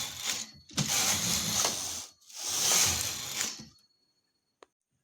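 A knitting machine carriage slides across plain rows of a baby garment in two long, loud, rasping passes with a short gap between them, then silence broken by a single faint click.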